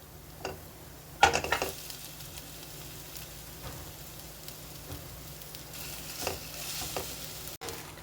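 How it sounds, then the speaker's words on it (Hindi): Mashed potato filling for vada is stirred and mixed in a pan. A quiet, soft background hiss is broken by a few scraping strokes and knocks of the spoon against the pan. "अच्छी तरह से चारों तरफ से चलाते हुए हमें मिक्स करना है ताकि सारा फ्लेवर आलू में आ जाए।"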